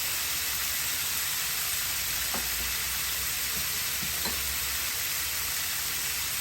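Garlic and ginger hit a hot stir-fry pan for rice or spaghetti, giving a loud, steady sizzling hiss throughout, with a few faint utensil taps against the pan.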